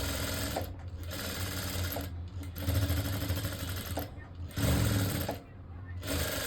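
A sewing machine stitching a blouse runs in steady whirring bursts, stopping briefly and restarting several times with a close, even mechanical hum and needle clatter.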